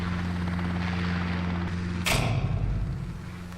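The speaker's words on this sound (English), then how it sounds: "Sounds like a helicopter." A helicopter passes overhead in the video game Dissonance as a steady, loud low drone. A sudden heavy thud lands partway through, and then the rotor hum carries on.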